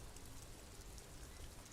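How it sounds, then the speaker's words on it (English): Steady rain falls in the video game Disco Elysium, a dense, even hiss of drops pattering on surfaces, continuous and unbroken with no speech. "It's raining again."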